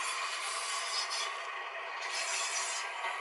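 Metallic flange squeal from a model Class 31 locomotive rounding a curved track, a continuous faint high scraping whine that swells and fades slightly, heard alone without talk.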